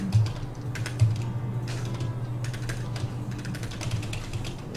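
Close computer keyboard typing during AutoCAD drawing work, quick bursts of key clicks with a few heavier Enter presses over a low steady hum.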